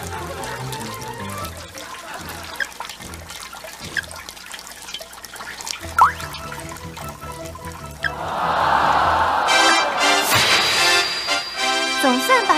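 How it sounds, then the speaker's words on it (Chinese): Running tap water splashes while feet are being washed, a broad steady gush that grows louder toward the end and plays under a speaking voice. "洗完之后要关上水龙头"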